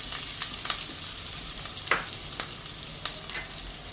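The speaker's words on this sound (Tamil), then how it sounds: "எண்ணெய் காஞ்ச பிறகு ஒரு பெரிய வெங்காயம் அறுத்து வச்சுருக்கிறேன்" A large chopped onion frying in hot oil for a chicken kuzhambu with field beans: a steady close sizzle with occasional scraping stirs and small pops, and no talking.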